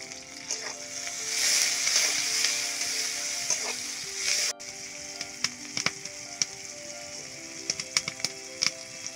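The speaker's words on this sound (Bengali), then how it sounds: "একটা কড়াইয়ের ভেতর তেল গরম করে নিয়ে সেখানে পেঁয়াজ মরিচ কুচি এবং সামান্য পরিমাণ লবণ দিয়ে বাদামি কালার করে ভেজে নিচ্ছি" Onions and chopped chilies with a little salt frying in hot oil in a wok: steady loud sizzling at first, then quieter crackling with sharp scattered pops and stirring clicks.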